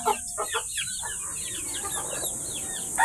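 Pet hens cluck in a run of close, busy calls near their nest of eggs, with a steady background hiss and a soft murmur of clucks throughout.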